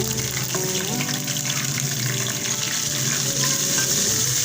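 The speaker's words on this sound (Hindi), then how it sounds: "इसके साथ ही हम थोड़ा पानी डाल देंगे।" Water poured into sizzling oil and spice masala with fenugreek seeds in a pan, a steady hissing pour that runs loud and close for the whole stretch, mixed with frying crackle and background tones.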